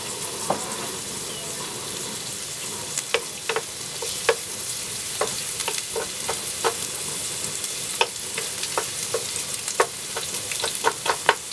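Onions sweat in a frying pan with a steady, close sizzle, broken by scattered sharp clicks and scrapes as they are stirred and broken up.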